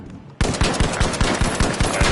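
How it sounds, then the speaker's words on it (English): Rapid Uzi submachine gun fire in a video game: a dense, steady burst of close, loud shots in quick rhythm, starting abruptly after a brief quiet moment and running continuously. "It was someone with an Uzi."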